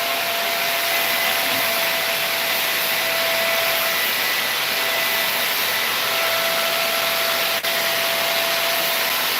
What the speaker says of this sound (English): He's doing a little bit of grinding on a couple of things for welding.